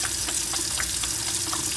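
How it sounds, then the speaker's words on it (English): Warm tap water runs steadily into a sink while hands rub and splash beneath it, making a constant close hiss broken by small wet slaps. "when we're washing our hands, we want to make sure that we get soap, warm water"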